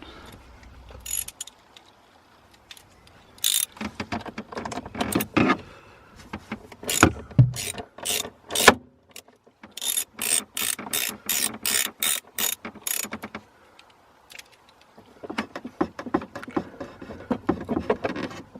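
A ratchet loosening the 10mm nut on a BMW's negative battery terminal, quick rhythmic clicking runs in several bursts separated by pauses, close and crisp, with no speech.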